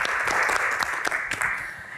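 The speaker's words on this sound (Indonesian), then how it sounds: "Tepuk tangan lebih meriah lagi dong." Audience applause at an Indonesian televised Islamic talk show on safeguarding the dignity of the hajj, a dense, steady wash of many hands clapping at close range, fading slightly at the end.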